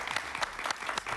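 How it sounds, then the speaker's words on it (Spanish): A studio audience gives a short burst of applause for historian Agustín Blanco Muñoz, with a few distinct, fairly close claps over a light background wash. "un aplauso para él"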